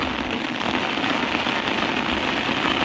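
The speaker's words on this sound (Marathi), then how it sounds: "आता खूप पाऊस चालू" Heavy rain pours steadily at Raigad Fort, a dense, loud wash of drops drumming on surfaces nearby without a break.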